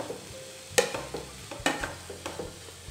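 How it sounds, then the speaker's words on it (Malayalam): A spoon stirs vegetable momo filling seasoned with pepper powder in a hot pan, giving a few sharp scrapes and clinks over a low, steady sizzle. "നന്നായിട്ടൊന്ന് മിക്സ് ചെയ്ത് കൊടുക്കാം"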